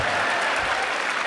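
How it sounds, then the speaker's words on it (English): A university campus crowd claps in a short, dense burst, the applause loud and even throughout. "give Evan a round of applause"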